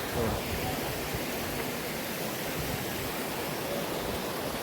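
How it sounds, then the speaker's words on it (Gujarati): Water rushes steadily at a Mahadev temple near Sihor, a constant broadband wash like a stream or small waterfall, moderately loud and unbroken with no talk over it. "ગરમાં કેમ પાણી જતું હોય એવી રીતે પાણી જાય છે"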